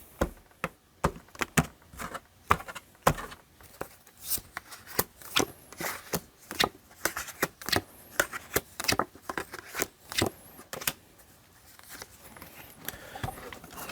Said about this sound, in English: let's do one more shuffle and see what's in the cards